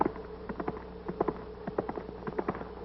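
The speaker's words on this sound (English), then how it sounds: "Granny, that's the biggest horse I ever seen in my life." Hooves of a large horse clip-clop in an irregular walking rhythm in a 1943 American film soundtrack, the sharp, fairly close knocks muffled by narrow old-film audio, with no speech.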